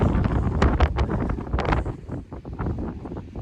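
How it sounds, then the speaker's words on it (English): Strong wind buffets the microphone on a mountain summit, Saint Charles Peak in the Sangre de Cristo Mountains, Colorado, in continuous loud gusts, roaring and rumbling with no other sounds. "So yeah, super windy."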